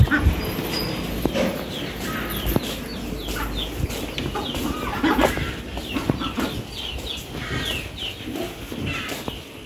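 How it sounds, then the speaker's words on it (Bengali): Chickens clucking in a yard alongside ducks, with scattered short calls rising over a busy outdoor background, fairly close and moderately loud. "মুরগি।"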